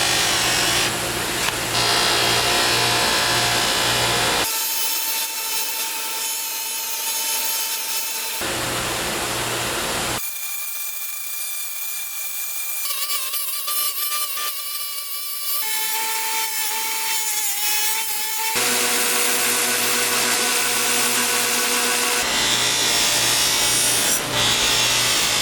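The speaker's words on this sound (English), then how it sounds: "A little white rouge on the buffing wheel." A knife, a forged Damascus hunting blade, is pressed against a buffing wheel loaded with white rouge. The motor whirs loudly and continuously while the blade's contact comes and goes in long grinding, rubbing stretches, with changing tones and no talk.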